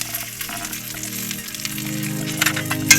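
Curry leaves and asafoetida sizzle and crackle in hot oil, a continuous close frying hiss with sharp pops and spits, no voices present.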